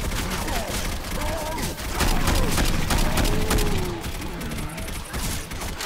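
Dense, rapid gunfire from several weapons in Left 4 Dead 2, with sharp overlapping shots crackling nonstop at close range, plus shouting and game noises mixed in.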